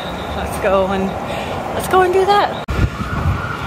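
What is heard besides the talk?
city siren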